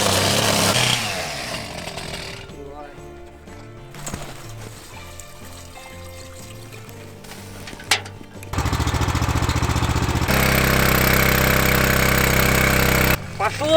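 Small water pump engine running at low revs, pumping out water pooled around a Caterpillar 320DL tracked excavator stuck in snowmelt; a raspy droning motor that drops away, then returns loud and steady, with people talking nearby.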